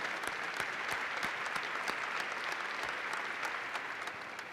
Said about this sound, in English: You're getting applause if you can't hear it.